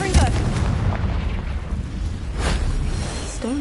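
A Confringo blasting spell goes off in Hogwarts Legacy, a loud, sustained rumbling explosion with deep booming energy and a couple of sharper bursts layered over it.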